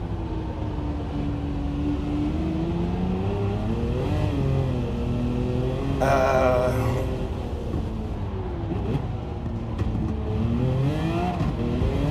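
A Lamborghini Aventador in Gran Turismo 7 drones loudly at high revs through a race, its engine pitch rising and falling through gear changes, with a brief burst of tyre or impact noise midway and a voice talking over it.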